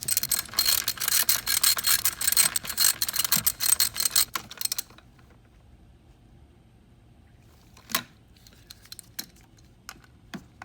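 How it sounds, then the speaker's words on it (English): Close ratchet clicks in quick bursts during the first half, tightening bolts on a Kia Stinger 3.3L twin-turbo engine after a spark plug install, then a quiet pause broken by a few sharp metallic clicks. "now finish tightening these bolts on."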